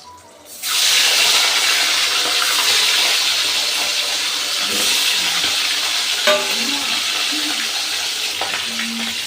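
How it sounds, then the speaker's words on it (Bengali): Bhetki fish frying in mustard oil, a loud, steady, close hiss and crackle of sizzling oil that starts abruptly and carries on throughout, with occasional faint clinks of a utensil. "এইভাবেই বাকি মাছগুলো আমি ভেজে নেব।"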